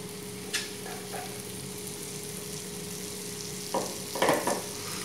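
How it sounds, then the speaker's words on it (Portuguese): Bacon and calabresa sausage frying in a pan, a quiet steady sizzle with a few brief stirring scrapes near the start and a louder clatter near the end. "agora aqui a gente vai colocar o bacon e a linguiça calabresa para fritar"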